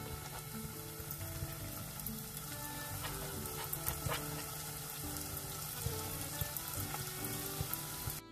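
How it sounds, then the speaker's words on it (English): Beef curry puffs, Malaysian style, fry in cooking oil over low heat. A dense, steady sizzle with light bubbling crackle runs through the whole clip at an even level, and there is no talk. "I'm going to fry curry puff with low heat fire"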